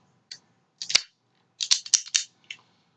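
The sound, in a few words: cutting the cap off a RomaCraft Aquitaine toro cigar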